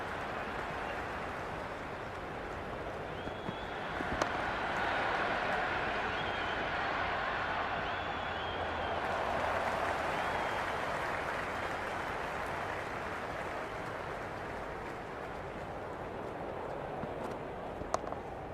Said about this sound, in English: There's an almost tangible fervour throughout the crowd at the moment.